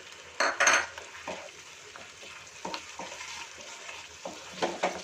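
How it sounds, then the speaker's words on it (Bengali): Spice paste for dum aloo sautéing in a pan over medium heat, a low steady sizzle broken by several sharp bursts of spoon scraping and stirring against the pan, close and without talk. "আমি গ্যাসের আঁচটা মিডিয়ামে রেখেই কষছি।"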